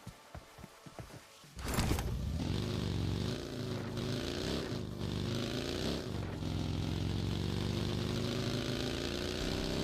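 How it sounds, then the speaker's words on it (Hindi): Buggy engine in the PUBG video game, revving up abruptly after a few sharp clicks and then droning steadily and loudly as the vehicle drives, with rising and falling pitch through gear changes. "मैं तुरंत गया बग्घी लेने के लिए।"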